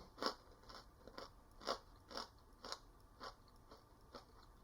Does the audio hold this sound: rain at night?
no